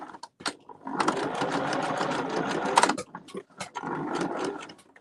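A sewing machine runs a zigzag stitch in a close, steady mechanical whirr lasting a couple of seconds, with short stop-start bursts before and after.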